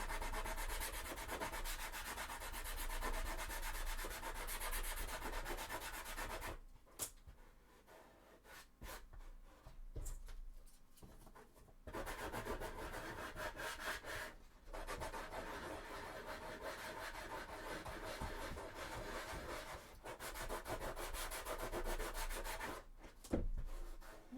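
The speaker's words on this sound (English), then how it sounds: "I'm trying to sand it so it's, you know, not so pointy" Steady abrasive rubbing as a cosplay armour piece for a Warhammer 40k Sisters of Battle costume is sanded down, long continuous strokes close to the ear, with a few brief pauses between passes.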